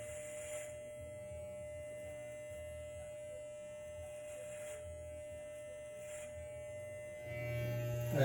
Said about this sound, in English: turn your machine on, comb your hair down a few times, and then place your machine completely flat